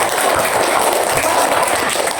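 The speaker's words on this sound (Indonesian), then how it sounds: "Tepuk tangan untuk semua kelompok" Classroom applause for student groups during a coding lesson, a loud, even, continuous roar of clapping close by with no talk over it.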